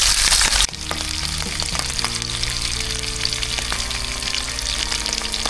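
Fresh fish fries in oil with a loud, continuous sizzle close by, and occasional stirring clicks sound over the crackle.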